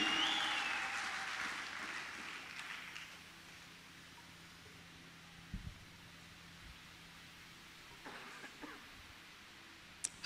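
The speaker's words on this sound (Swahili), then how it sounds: "piga tena vigelegele vya shangwe" A church congregation claps and cheers in praise at a Swahili worship service, a broad wash of applause that is strongest at the start and then thins into a softer background murmur with a few scattered thumps.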